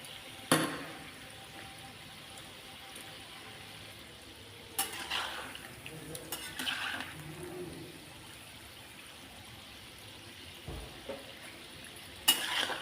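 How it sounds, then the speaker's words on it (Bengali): Quiet, steady frying hiss from a pan of palm-fruit fritters on low flame, broken by a few clinks and scrapes of a utensil. "আমি একটু বেশিক্ষণ ধরে লো আঁচে ভাজা করছি"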